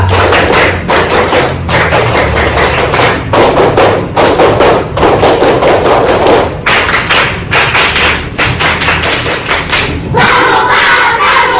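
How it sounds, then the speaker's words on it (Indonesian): A classroom of students performs the Pramuka scout clap in sharp, loud unison bursts, repeated in quick groups of three with brief pauses between, followed by a shouted group cry near the end. "Tiga kali tepuk pramuka."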